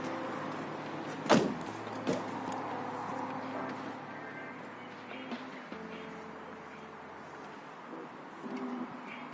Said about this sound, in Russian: пробуем закрывать, открывать, слушать дверь.